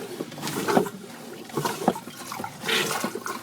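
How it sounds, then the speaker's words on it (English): Water rushes into a marine toilet bowl in irregular surges, driven by a newly installed Jabsco pump on a boat, with splashing and gurgling pulses close by and no talk. "Let's go ahead and try to fill our bowl."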